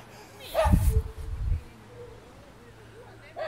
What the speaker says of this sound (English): Dave Hodgeson battling and losing the battle against a chorus of dogs during the shooting of the Worsbrough Mill video